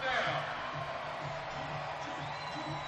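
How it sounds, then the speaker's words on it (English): A football stadium crowd on a Saturday night at Troy roars in a broad, sustained wash of cheering on third down, with a commentator talking over it. "Crowd getting into it a little bit now."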